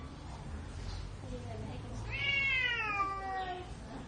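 A cat lets out one long, drawn-out meow that bends downward in pitch, close by, over a low background hum.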